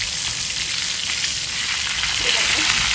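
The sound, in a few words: fish frying on a tava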